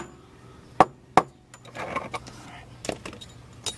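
A bolt is tapped into the rear strut of a 2003 Subaru Outback, giving a few sharp metallic knocks close by, two strong hits followed by lighter taps and clinks.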